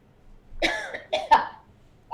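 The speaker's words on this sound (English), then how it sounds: "Cough. Sorry." A person coughs several times in short bursts, close and fairly loud, with a throat-clearing quality between coughs.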